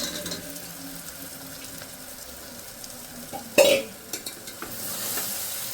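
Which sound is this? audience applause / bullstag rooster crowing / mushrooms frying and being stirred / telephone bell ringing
mushrooms frying and being stirred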